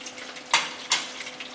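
Homemade chicken nuggets dropped into hot frying oil, two sharp bursts of sizzle close by, each flaring up then settling into a steady crackle.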